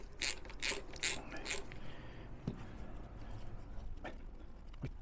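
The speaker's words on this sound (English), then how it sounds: "now we can remove the caliper mounting bolts" Close, quiet clicking of a ratchet backing out the caliper mounting bolts on a Triumph Bonneville, a few short bursts of pawl clicks followed by scattered faint taps and handling noises.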